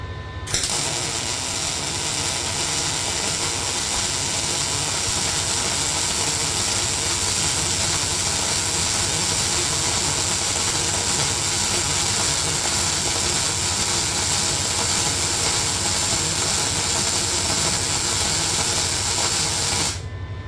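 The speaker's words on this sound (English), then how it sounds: "I'll show you exactly how that weld's going to fill in that chamfer" A steady, close crackling hiss of a butt weld bead being laid into a chamfer, continuous and loud for the whole stretch with no talk over it.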